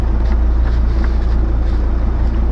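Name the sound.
wind blowing outdoors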